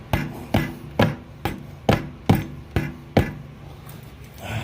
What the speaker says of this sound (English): I'm trying to hammer on this.